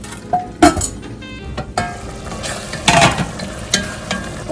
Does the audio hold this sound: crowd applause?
no